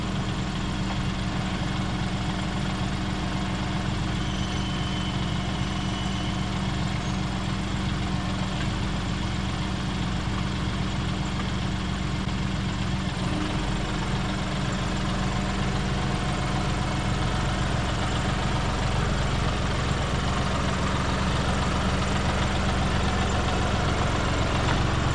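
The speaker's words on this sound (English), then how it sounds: "I need to pick it up with the tractor" A tractor engine idles with a constant low rumble and steady vibration, close and unchanging for the whole stretch, no voices heard.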